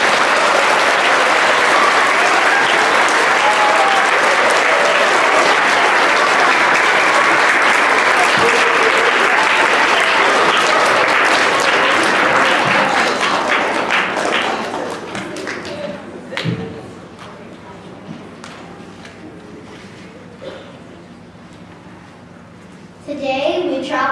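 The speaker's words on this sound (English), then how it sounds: "Let's give everyone a round of applause." A school assembly audience for Martin Luther King Jr Day gives sustained loud applause that fades out after about fifteen seconds, followed by quieter room noise and scattered thuds.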